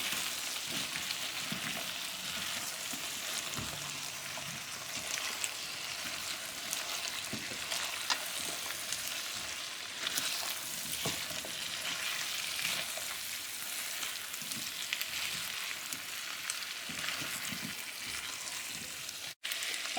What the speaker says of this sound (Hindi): गोभी को मिक्स कर देते हैं मसाले में।